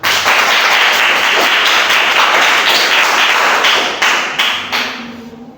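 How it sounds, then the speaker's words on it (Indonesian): An audience at a classroom teaching session claps loudly and densely in a steady wash of applause that tapers off near the end. "tepuk tangan untuk mereka."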